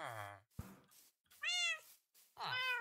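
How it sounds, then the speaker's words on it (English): Several cats meowing in the Minecraft video game, three separate clear meows with pauses between them, close and fairly loud. "There's so many cats here."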